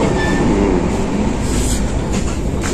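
The Dibrugarh Rajdhani Express runs along its track, a loud, steady rumble and rattle of railcars with wheel noise, close and continuous, with no talk.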